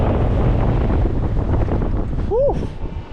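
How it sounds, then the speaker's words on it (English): Strong wind buffeting the microphone high up on a fairground ride at Flamingo Land in cold March weather, a constant loud roar with a short vocal exclamation near the end. "it's cold and windy up here"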